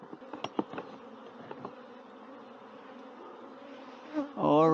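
Bees buzzing around a hive box with wax-laden frames, a steady close insect drone with brief louder passes, swelling into a loud buzz as a bee flies near at the end.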